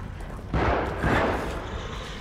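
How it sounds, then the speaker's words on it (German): Two heavy gunshots from the horror video game The Evil Within, about half a second apart, each a booming blast with a reverberant tail over a low background rumble. "Schüsse."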